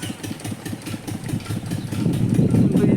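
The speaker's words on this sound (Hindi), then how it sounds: "अब ट्रैक्टर आने वाला है" Tractor engine on a farm field running with a steady rhythmic chugging that grows louder and heavier toward the end as it draws closer, with no voices over it.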